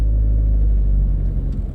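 A car passes on a city avenue in an expanding part of Porto Alegre on a windy day, heard as a heavy, close low rumble that swells and fades over under two seconds.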